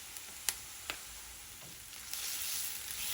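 Ginger garlic paste frying with onions in a pan for kadai paneer, a faint soft sizzle with a couple of brief utensil clicks, the hiss growing a little fuller toward the end.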